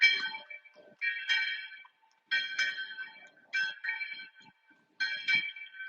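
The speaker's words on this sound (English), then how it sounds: "So I guess it's, 4 o'clock on the nose. I guess that's why the bells are ringing." Church bells ring from a bell tower in Seville at four o'clock, sounding in a steady series of bright, resonant strikes with short pauses between them, heard clearly across a quiet street.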